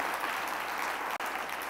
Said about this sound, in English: Can we give a clap offering to the Lord?